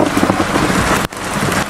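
Very heavy rain pours during a Florida thunderstorm at night, a loud, dense, steady roar with a brief dip near the end before the downpour resumes.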